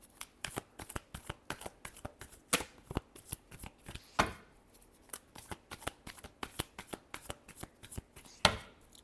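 Tarot cards are shuffled close up in quick, repeated riffling bursts and soft slaps, a rhythmic run of crisp papery flutters with brief pauses in between.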